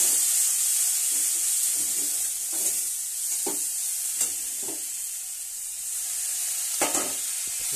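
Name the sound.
stirring and frying snake gourd egg curry with spices in pan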